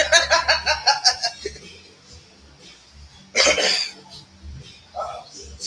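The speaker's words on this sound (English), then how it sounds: "that's just me clearing my throat" A person in a podcast studio makes a rapid series of rhythmic, breathy bursts in the first second and a half, followed by a louder rasping clear of the throat, close to the microphone with faint background noise.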